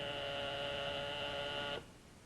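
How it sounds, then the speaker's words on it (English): An alarm wristwatch beeps with a steady, continuous electronic tone lasting nearly two seconds before cutting off abruptly, leaving faint room hum. "It's an alarm wristwatch. It goes like this."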